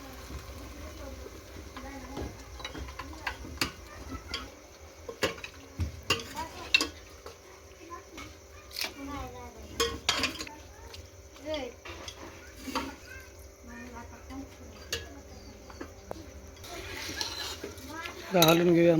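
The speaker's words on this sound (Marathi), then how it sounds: "हलवून घेऊया, मस्त" Mutton being stirred in a pan for a spicy Sunday biryani: irregular scrapes and clinks of a spoon against the pan over a soft sizzle, with occasional speech and a louder burst near the end.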